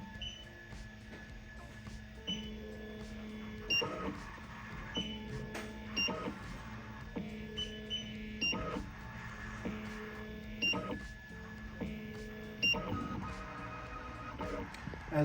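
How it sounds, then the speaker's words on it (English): A LockGenics key-cutting machine scans a house key with a quiet, steadily repeating pattern of mechanical whirring, stepping-motor tones and faint beeps. "So the machine will start scanning your key."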